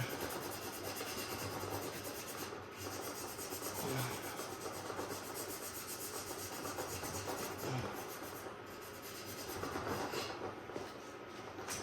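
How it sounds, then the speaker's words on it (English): Hand sanding on a rifle stock around the recoil lug area during action bedding, a continuous soft scratchy rubbing with gentle back-and-forth swells, quiet and close, with no talking. "So sand a little bit more right here."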